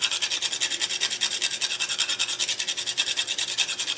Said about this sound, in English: I always rather use the whole nutmeg and then grind it down.